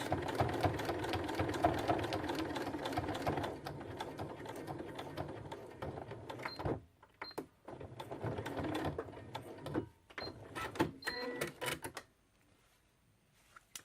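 A sewing machine stitches a winter slipper in fast, steady mechanical runs, pausing briefly and restarting in shorter bursts with clicks between, then stopping near the end.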